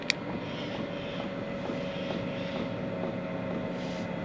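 Diesel heater fan running steadily inside a campervan, a continuous droning whir with a faint rhythmic pulsing, moderately loud and close, with no talk over it.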